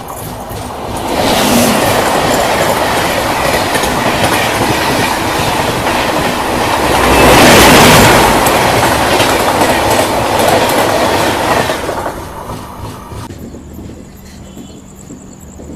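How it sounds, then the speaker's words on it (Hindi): Passenger trains pass each other as the Jorhat Town–Guwahati Jan Shatabdi Express crosses alongside, with a loud, steady rush of wheels and clickety-clack lasting several seconds before fading away. "तो देखो सामने से क्रॉसिंग होने वाली है जोरहट टाउन गुवाहाटी जन शताब्दी एक्सप्रेस के साथ।"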